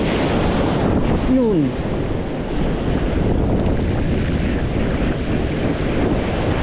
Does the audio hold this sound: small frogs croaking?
no